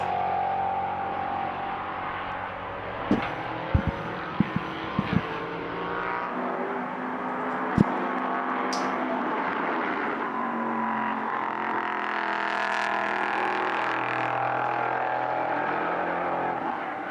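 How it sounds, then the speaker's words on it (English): LMP3 prototype race cars circling the Portimão circuit, a steady sustained engine roar with rising revs and a few sharp clicks, continuous and fairly loud with no talk. "really cars that enjoy sliding, these LMP3 machines"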